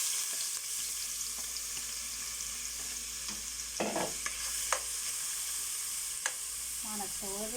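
Onion sizzling steadily in a pot of hot oil and ghee, with a constant broad hiss throughout, a few brief stirring knocks and clinks, and a short burst near the end.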